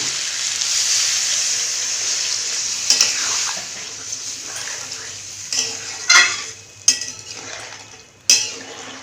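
Vegetable paneer curry frying in a pan as water goes in: a soft, constant sizzle close by, broken by a few sharp metallic clinks and scrapes of a utensil against the pan.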